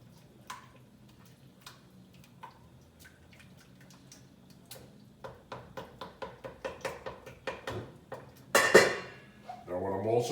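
Spoon scraping and clinking against a pot while tomato paste is stirred into a lamb ragu, a run of quick, close taps and scrapes that grow louder toward the end, with a sharp clatter near the finish.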